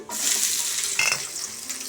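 Steady broadband sizzling of thinly sliced onions and seasoning spices frying in hot oil in a pan, continuous and close, with a brief brighter hiss partway through; no voices.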